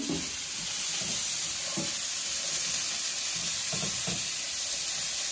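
Rinsed canned black beans hitting a hot pan for an enchilada casserole, giving a steady, even sizzle with a few soft stirring clinks throughout.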